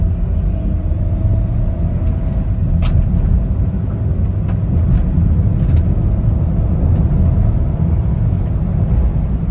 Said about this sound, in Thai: มาดูว่าศูนย์ถึง ร้อยเนี่ยอัตราเร่งเป็นไงบ้างนะครับ